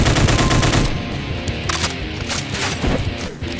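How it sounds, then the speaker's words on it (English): Rapid chaingunner fire in Doom 2 with the Project Brutality mod, a dense loud burst of gunfire with booming low end that keeps stuttering on through a busy game soundscape. "there is a chain gunner up top"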